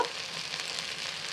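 Spices fry in a pan for a pangas fish curry, making a soft, even sizzle that holds steady at low volume throughout.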